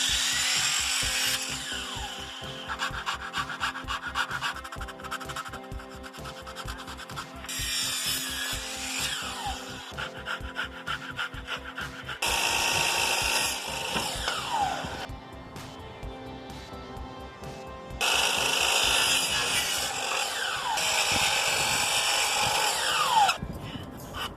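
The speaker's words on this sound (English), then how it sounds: "I'm going to try to sand this up a little just to get rid of some of the fur" A power sander works rough-cut wood trim in several long loud runs separated by short pauses, with a whirring buzz and steady gritty abrasion up close.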